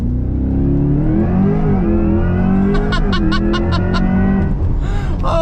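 A 2024 Chevrolet Corvette E-Ray hybrid launches hard from a standstill in track mode, its engine note rising steadily and loud through the run, with a sharp whine and brief higher tones late in the pull.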